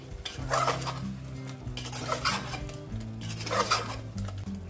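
A spoon scrapes and clanks against a pot while mutton haleem is mixed with cumin powder, garam masala and chili powder. The stirring comes in repeated close strokes, with a low, steady hum underneath.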